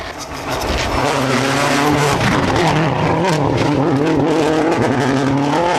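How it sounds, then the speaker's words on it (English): A Subaru rally car runs hard over a rough stage road at the Cork 20 International Rally, its engine roaring loud and close with rising revs and gravelly road noise. "their S12B Subaru soaks up the rough ride on Kilnamatra"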